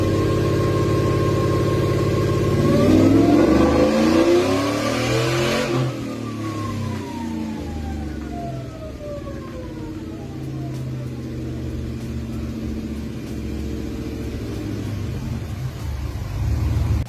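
A rebuilt Gen4 5.3L LS V8 from a Silverado runs on a dyno, revving up hard, holding a loud roar with sweeping pitch, then dropping back to a rumbling idle.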